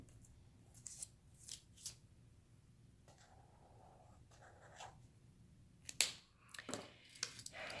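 A marker writing in a reading journal: soft, close squeaky strokes in short bursts separated by quiet pauses, with a few louder scratchy strokes near the end and no talking.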